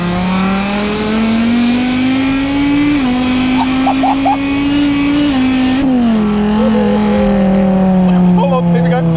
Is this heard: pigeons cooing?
no